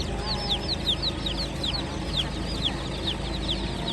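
Dominant Cz chicks and chickens clucking in quick, repeated short calls over a steady background hum, fairly close and continuous, with no talk.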